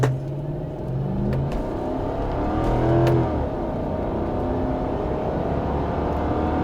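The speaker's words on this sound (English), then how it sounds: "Foot on the brake, full throttle," A V8 Toyota 4Runner accelerates at full throttle from a standstill, the engine roaring steadily and building in pitch for several seconds with a brief peak near the middle, heard close and loud with no talking.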